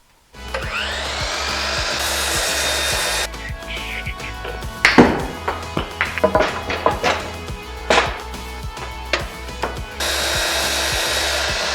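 A miter saw cuts wood for a 3D printer stand, its motor whining up loud and steady, then a run of sharp cutting bursts and knocks before the motor spins up again near the end.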